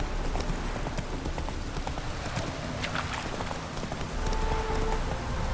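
Hooves of Roach, the horse in The Witcher 3, clip-clop at a steady gallop, fairly close and continuous against a rumbling game ambience.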